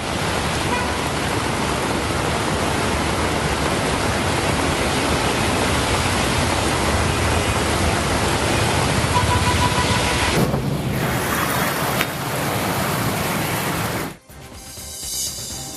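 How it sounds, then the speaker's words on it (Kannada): Heavy cyclone-driven rain pours in Udupi as a dense, steady roar. It holds unbroken and then thins and cuts away near the end; no distinct thunder stands out. "ಸಂಜೆಯ ಬಳಿಕ ಸುಮಾರು 2 ತಾಸು ಗುಡುಗು ಮಿಂಚು ಸಹಿತ ಭಾರೀ ಮಳೆಯಾಗಿದೆ"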